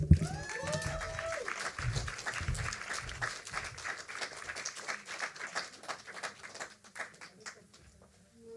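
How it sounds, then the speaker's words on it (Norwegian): Audience applause at a Norwegian feminist poetry and spoken-word event, steady clapping from a modest crowd that gradually thins and fades toward the end, with a few bird-like chirps at the start. "Så gi henne en stor applaus."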